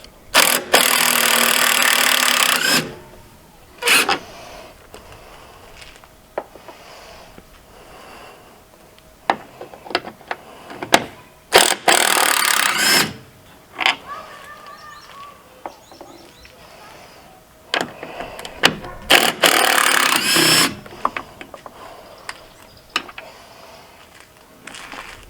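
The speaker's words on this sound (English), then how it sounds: "We'll switch to my impact just to make it faster." A cordless impact wrench works loose the headlight bolts on a Jeep Wrangler JL in several loud, sustained bursts of a few seconds each, separated by quieter stretches of handling and clicks.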